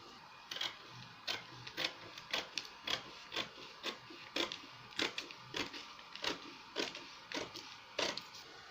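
Scissors snip through stretchy, light dress fabric in a steady run of short, quiet cuts, close by and evenly spaced, with no talk.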